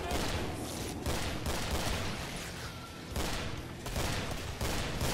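Shotgun fire in the video game Killing Floor, repeated heavy blasts in quick bursts with short gaps between them, loud and close over continuous game noise.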